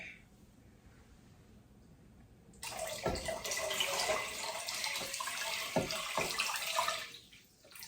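Water gushes steadily into a home fish tank set up in a kitchen, a loud continuous pour starting abruptly after a quiet stretch, with a few knocks partway through before it stops near the end.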